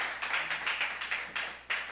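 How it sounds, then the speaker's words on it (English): Audience applause at the 2020 MassChallenge Switzerland awards ceremony, a live virtual event: a moderately loud run of clapping that swells in uneven bursts over two seconds, with no talk. "Big round of applause"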